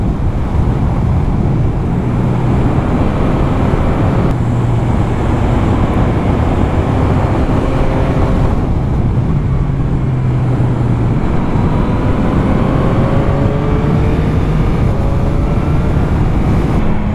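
A 2022 Yamaha MT-09 SP sport motorcycle with stock exhaust drones loudly while riding, revving up and shifting in repeated cycles amid heavy wind rush.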